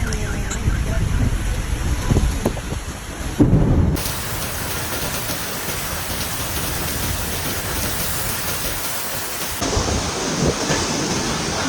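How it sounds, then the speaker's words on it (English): A tropical thunderstorm in Karachi, Pakistan: heavy rain pours steadily while thunder rumbles low and loud in the first seconds, with a siren-like wail faintly mixed in. "The storm hit suddenly"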